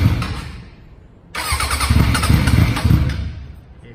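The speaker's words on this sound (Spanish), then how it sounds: "esta moto hay que embragarla, arrancar" A Suzuki Bandit 600 motorcycle fires up after a quiet pause, its engine catching abruptly and settling into a loud, steady, rumbling idle close by, with no voices over it.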